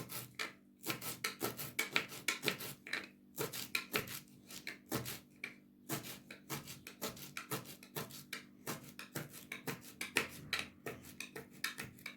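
A knife finely chops dill on a cutting board in a Turkish kitchen, a steady stream of quick, close, crisp strokes repeating in a quick rhythm and unbroken by talk.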